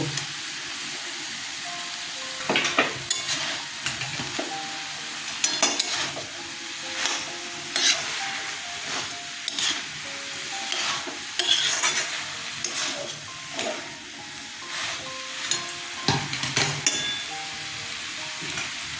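A ladle stirs fried brinjal into a thick banana stem curry in a pan, giving rhythmic scraping and clanking strokes over a soft, steady sizzle, close and repeated throughout.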